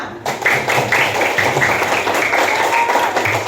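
A class of fifth-grade pupils applauding in a classroom, loud and close, a steady patter of many hands clapping with a rhythmic pulse throughout.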